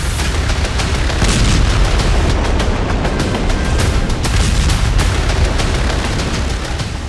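Dense, continuous booming blasts from a drone strike attack on the Russian Black Sea Fleet headquarters in Sevastopol, loud and rumbling with repeated sharp impacts layered over a steady roar.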